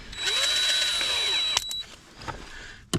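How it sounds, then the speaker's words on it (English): A power drill bores a pilot hole in a car interior above the climate control while neon tubes are mounted, its motor whine rising and falling for about a second and a half, then a few sharp clicks and knocks. "I think we should drill a pilot hole or two here."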